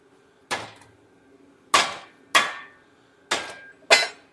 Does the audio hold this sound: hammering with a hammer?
yes